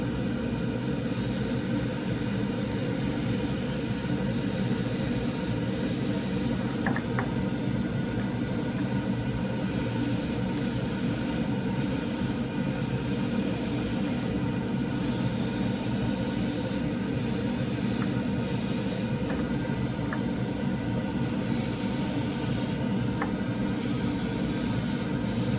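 Spray gun laying a light first coat of MCW enamel paint, a steady continuous hiss running unbroken throughout at moderate level, with no talking.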